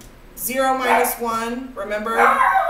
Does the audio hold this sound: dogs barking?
yes